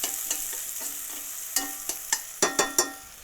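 A spoon stirs soup ingredients sizzling in a pot: a steady hiss of frying under a series of sharp scraping clacks, sparse at first, then quicker and louder near the end, close with no talking.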